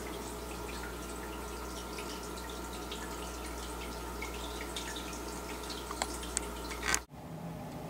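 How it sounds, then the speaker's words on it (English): Water drips faintly in a quiet room, a few soft intermittent drops over a steady electrical hum, followed by a sudden bump and near silence. "It sounds like water."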